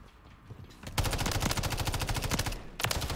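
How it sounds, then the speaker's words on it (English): Rapid automatic gunfire from Call of Duty Modern Warfare 3 rattles in a long sustained burst, preceded by a few scattered shots and followed by a fresh burst at the end. "I think I'm getting shot out from behind here."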